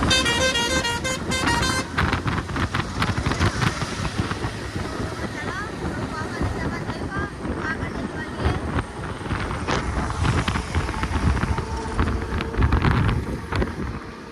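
Road traffic passes on a rough, damaged highway under construction, with horn toots near the start amid steady engine and wind noise, fairly loud and close throughout.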